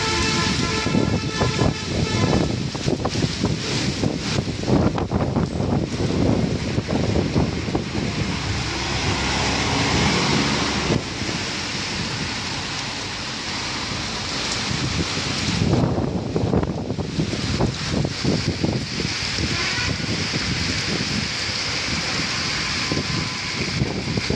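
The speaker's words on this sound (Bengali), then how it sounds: "এত পরিমাণ ঝড় জল হচ্ছে, দেখুন মেন রোডটা দেখলে বুঝতে পারবেন যে কতটা পরিমাণে ঝড় আর বৃষ্টির" A strong storm of wind and rain roars across a main road, a loud, dense rushing with buffeting gusts against the microphone throughout and a brief lull partway through.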